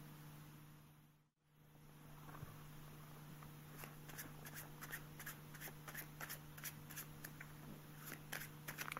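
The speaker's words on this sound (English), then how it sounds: "It's called the Hindu shuffle." A deck of playing cards gets a Hindu shuffle, giving faint, quick, repeated soft snaps and slides in an uneven rhythm against a quiet room hum, with one brief dropout early on.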